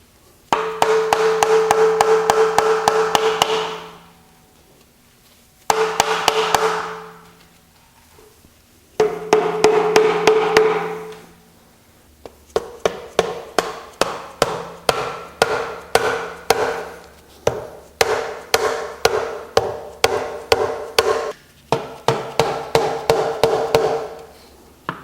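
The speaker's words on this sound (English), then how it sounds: "work all the way around the perimeter using the putty knife and a hammer" Rapid metallic hammer taps strike a putty knife in bursts around an oil pan on a Chrysler 3.2/3.6 engine, then settle into a steady run of sharp, ringing knocks, close and loud with no talking.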